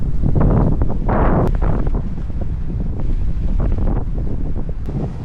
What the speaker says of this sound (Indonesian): Anginnya gede banget tuh